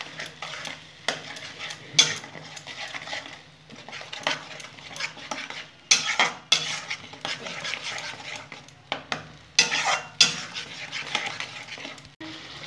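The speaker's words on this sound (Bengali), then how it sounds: "ভালো করে মশলাটা কষিয়ে নেব।" Spice masala sizzles in a pan while a spoon scrapes and knocks against the metal in repeated bursts, each stirring pass clattering loudly between quieter stretches of frying.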